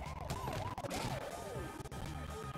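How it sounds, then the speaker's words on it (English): Police car siren in the video game Turbo Dismount, a wailing rise-and-fall tone in quick cycles over a dense rumble of game noise, heard without talk. "Yeah, that police car was coming after me."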